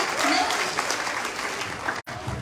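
A crowd bursts into loud, sustained applause, a thick roar of clapping that fills the space and cuts off abruptly for an instant near the end before resuming.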